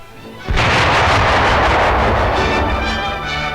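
A second adhesive explosive charge detonates on a tank during wartime close-combat training: a sudden loud, heavy blast that rolls on as a dense, roaring rumble for several seconds, with no talking.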